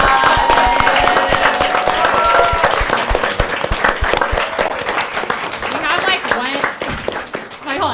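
A crowd applauds a group of filmmakers after a panel discussion, loud dense clapping filling the room while voices talk and cheer over it, tapering slightly toward the end.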